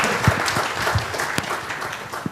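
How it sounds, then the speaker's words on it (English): An audience at a GST law lecture applauds a senior advocate being welcomed, a short burst of moderate clapping with scattered louder claps, fairly close. "Please give sir a very big round of applause."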